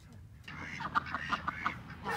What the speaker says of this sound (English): Ducks are doing good, quacking in the middle of the night like they always do.